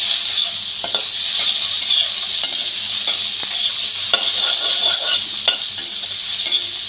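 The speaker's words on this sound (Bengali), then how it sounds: "পেঁয়াজটা একটু দিয়ে আলুটা একটু নেড়ে চেড়ে নেব।" Potatoes and grated onion frying in a pan for a rui fish curry, giving a steady close sizzle with repeated scraping stir strokes throughout.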